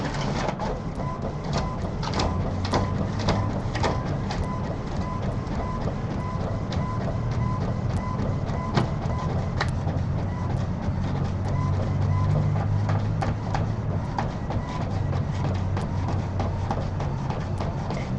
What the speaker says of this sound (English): That's my printer starting up.